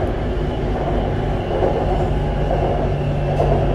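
A Bangkok BTS Skytrain car rolls along the elevated Sukhumvit line, giving a steady low rumble of wheels on rails and motor hum that fills the whole stretch evenly, with no talking.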